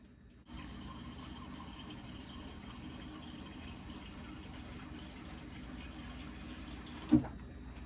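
Tap water runs steadily into a container in a home kitchen while making Jamaican fried dumplings, a constant splashing flow with a brief clink near the end.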